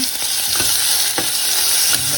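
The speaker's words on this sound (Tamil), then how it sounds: "முடிஞ்சளவு கலரிக்கிட்டே இருக்குங்க" Steady sizzling of vegetables and tomato frying in a pressure cooker for vegetable biryani, with a few sharp scraping strokes of a spoon stirring through it.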